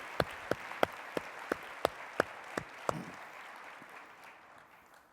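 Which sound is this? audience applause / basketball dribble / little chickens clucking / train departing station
audience applause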